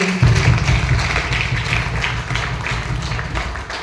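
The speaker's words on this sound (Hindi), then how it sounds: "मैं चाहूंगा द क्रिएटर के लिए जोरदार ताली।" A seminar audience breaks into strong applause for The Creator, a dense, steady roar of many hands clapping in a hall, loud and continuous throughout, with a low rumble underneath.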